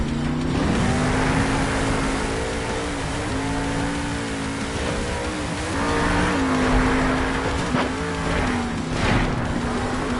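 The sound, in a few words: monster truck hitting the car stack jammer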